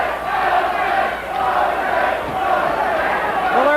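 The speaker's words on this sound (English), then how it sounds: "Crowd taking up a chant of Jose." Crowd at a 1986 ten-round heavyweight boxing bout between Mike Tyson and Jose Ribalta, chanting in a steady, loud roar that swells and dips, with faint commentary voices underneath.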